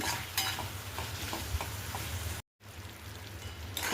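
Jaggery stirred into raw mango methamba in a pan, a steady soft sizzle and bubbling with faint scraping strokes throughout, briefly cutting out before resuming.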